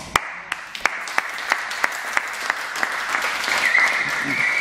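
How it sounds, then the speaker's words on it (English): A crowd breaks into applause, starting with a few sharp claps and swelling into steady, dense clapping that grows slightly louder toward the end. "to start the show, we need a small first applause."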